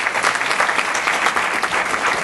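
Audience applause at a media industry event debate, loud dense clapping from a crowd, sustained and even across the whole stretch with no talking over it.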